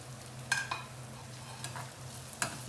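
Chopped onions frying in a pan as the base for lentils with spinach: a low, soft sizzle broken by a few sharp clacks of stirring, close by with no talking.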